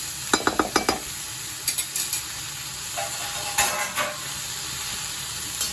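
Pumpkin and prawns are stirred in a sizzling pan for a Bengali kumro chingri dish, with a quick run of spatula scrapes and clinks against the pan over a steady frying hiss.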